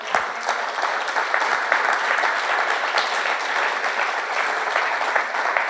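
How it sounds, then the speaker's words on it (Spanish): A congregation at a church service claps steadily, a dense, even wash of applause lasting throughout with no talk over it. "Dale un fuerte aplauso al Señor."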